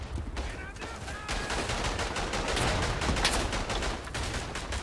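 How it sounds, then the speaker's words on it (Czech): Heavy machine gun fire rattles in dense rapid bursts in the World War I shooter Verdun, loud and continuous with sharp overlapping shots. "ale je tady těžká kulometná palba"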